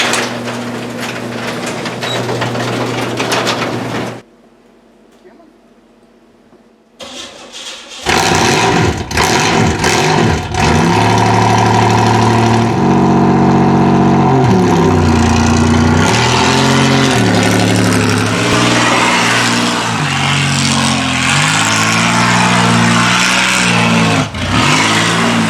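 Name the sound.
Oldsmobile car engine starting and running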